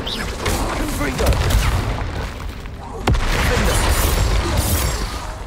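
Confringo blasting spell explosions in the video game Hogwarts Legacy, with dense booming blasts and a sharp crack midway, loud and continuous under a constant game soundscape.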